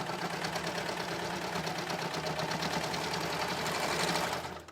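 A serger sews along the fabric edge of a pair of shorts, a loud continuous rapid mechanical whir and chatter that holds steady for several seconds before stopping abruptly.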